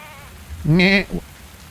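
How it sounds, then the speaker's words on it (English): A single goat bleat in the video game Tavern Talk, loud and close, rising and wavering for about half a second, followed by a short tail of sound, then quiet. "Okay, that was a goat, not the rooster, but okay."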